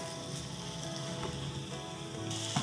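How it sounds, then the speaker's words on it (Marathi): Tomatoes and onion sauté in a pan with a soft, even sizzle at low volume, faint stirring noises underneath, and no speech. "तर टोमॅटो घातला, 3 ते 4 मिनिटं आणखी परतून घ्यायचं आहे"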